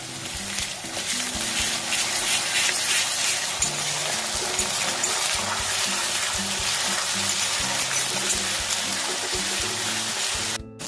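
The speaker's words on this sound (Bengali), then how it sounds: "পেঁয়াজটা দেখো হালকা ভাজা হয়ে এসছে।" Onion, ginger and garlic frying in a pan for a chicken dish: a steady, close sizzle with stirring and scraping sounds that stops abruptly at the end.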